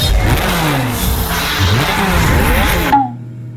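A Lamborghini engine roars loud and close, climbing and dropping in pitch through several rev sweeps before cutting off abruptly into near silence.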